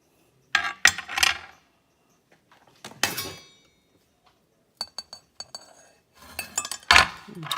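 A knife slices through fresh strawberries, landing in short bursts of sharp taps and clinks against a hard surface with quiet pauses between the cuts.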